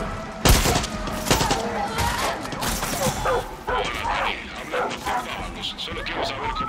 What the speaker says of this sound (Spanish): Esos son balazos.